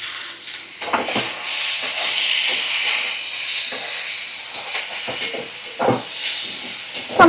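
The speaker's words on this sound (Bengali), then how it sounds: "দেখো কিছু কুচানো টমেটো আমি দিয়ে দিলাম।" Chopped tomatoes dropped into a hot pan of spiced oil with ginger-garlic and cumin paste for a fish curry, giving a steady loud hiss and sizzle with a few stirring scrapes and clatters, no voices.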